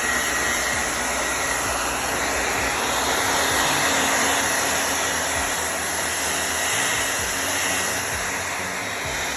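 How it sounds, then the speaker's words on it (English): A hair dryer blows continuously at close range, heating a side emblem on a 2019 Audi A5 Coupe, a loud steady whooshing hum with a high whine, no voices. "I'll be trying to heat it up with the blow dryer"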